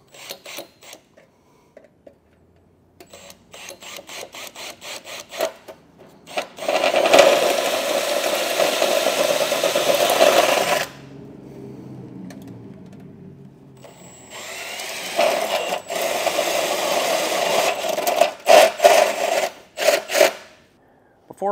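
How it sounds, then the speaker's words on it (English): A hole saw cuts through a metal heat shield under a 2023 Subaru Forester, grinding in two long loud drilling stretches separated by pauses and short rattling bursts. "I'm just gonna take a hole saw"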